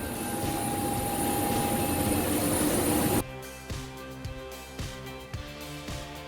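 Steady loud cabin roar of an airliner in flight to Jakarta, a broad engine and air rush that suddenly drops to a quieter hum with faint rhythmic clicks and tones.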